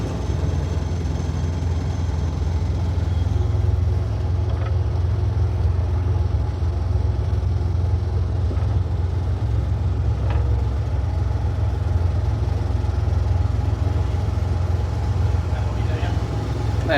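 A double decker bus engine runs steadily in gear at a railway museum, a loud continuous low diesel rumble with faint clicks over it throughout.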